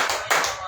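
Congregation clapping in a church service, a brief burst of applause from many hands, moderately loud and close, with a short pause before a second swell.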